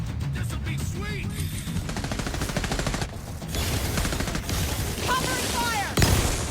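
Bursts of automatic gunfire and rapid shots in The Division Resurgence shooter, with repeated volleys, sharp cracks and a heavy boom near the end, layered with game effects.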